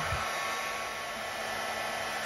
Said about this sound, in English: another top tip when it comes to heat embossing is to make sure that your heat tool is nice and hot